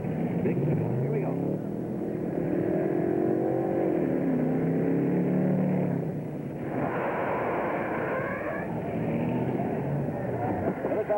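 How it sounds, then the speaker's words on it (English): A fire truck driven in a 1965 firemen's drill competition, its engine droning and shifting pitch as it revs and accelerates, close and loud throughout, with no talk over it. "Team captain is Bill Bryson, who is driving the truck right now"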